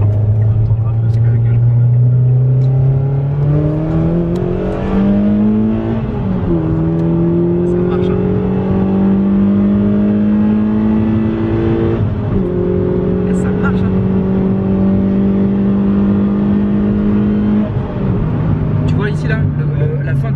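A car with a rebuilt 4.2-litre V8 pulls hard, engine note climbing through several gear changes in a steady, loud interior drone with voices talking over it.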